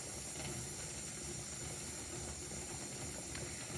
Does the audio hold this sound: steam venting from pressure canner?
yes